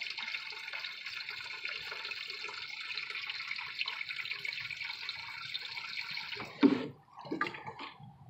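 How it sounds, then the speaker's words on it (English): Water poured from a jug into a can: a steady rush pours for several seconds, then cuts off, followed by a few splashes and gurgles nearby. "I'm using this jug to put water in this can"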